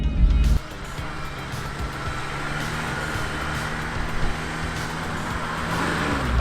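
BMW straight-six car and turbo four-cylinder Toyota Supra racing, engines droning steadily together with a louder burst at launch and a rising hum sustained throughout.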